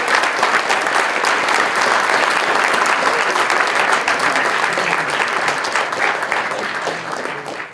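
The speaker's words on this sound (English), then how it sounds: "They all deserve a big round of applause." Dense, sustained applause from a hackathon audience after final demos, many hands clapping continuously at close range and tapering slightly toward the end, with almost no voices.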